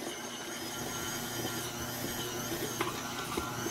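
A stand mixer with a dough hook turns over on low speed, giving a steady, loud motor whir with faint rhythmic knocks from the bowl, running alone with no voices.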